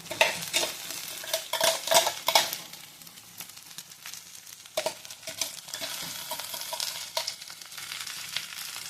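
A spoon scrapes and stirs grated coconut with salt in a hot pan, faint sizzling under irregular scraping strokes, close by and without speech.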